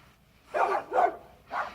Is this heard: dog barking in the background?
yes